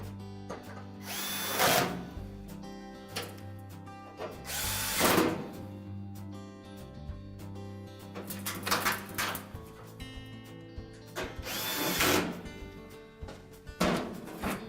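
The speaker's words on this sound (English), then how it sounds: "And again, just reinstall the retaining screws." A power drill drives retaining screws back into a Whirlpool range during cooling blower kit replacement, with several loud bursts of whirring spaced a few seconds apart over a steady background.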